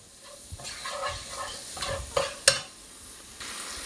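Onions already softened to translucent stirred in a pan with brown sugar as they caramelize, a soft steady sizzle with scraping stir strokes and a few sharper clinks of the utensil against the pan, no talking.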